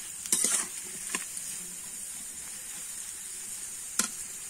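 Potatoes with salt and turmeric fry in a pan with a steady soft sizzle, while a few scraping stirs and light utensil knocks sound close by.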